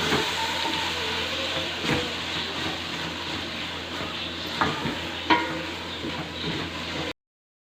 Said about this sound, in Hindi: ये सारे मसाले हम इसके अंदर ऐड कर देंगे और इसको अच्छी तरह भुनाई कर लेंगे।